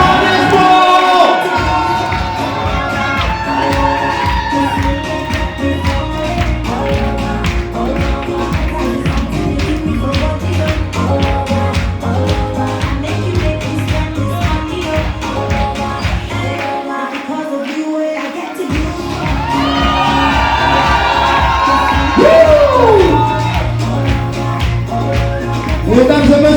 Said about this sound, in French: On enchaîne encore un maximum de bruit, un maximum d'applaudissements.